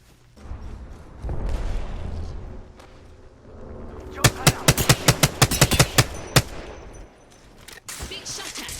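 Gunfire in the shooter game Apex Legends: a burst of rapid, sharp automatic shots cracks out in a quick rhythmic string over a low rumbling game background, with muffled chatter nearby.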